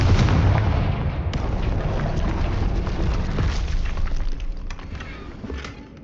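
In Hogwarts Legacy, a Confringo blast spell explodes with a loud, deep boom at the start, then a long rumbling tail of debris and crackle that slowly fades away.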